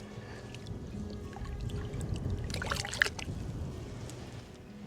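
A snook of low twenties in weight is released back into shallow water, giving a faint splash and trickle that rises briefly midway, over quiet low background noise.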